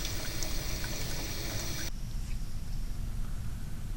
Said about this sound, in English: By carefully adjusting the kitchen faucet, we can produce a stream of water that is not only laminar, but also steady